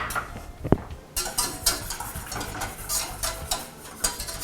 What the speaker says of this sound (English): I'm putting in the cornstarch, getting all that in there, and I'm going to whisk.